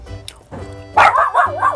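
A pet dog kept shut away indoors barks and yips in short, excited bursts, fairly close and loud, during a casual home food session in Cebu, Philippines.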